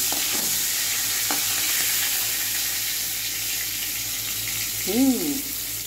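Prawns sizzle steadily in hot oil in a pan, a constant frying hiss with a couple of soft scrapes and a brief tonal squeak near the end.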